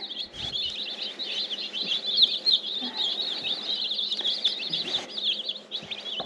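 A crowd of baby meat chickens peeping constantly, high and busy chirps overlapping close by, with faint low background noises underneath.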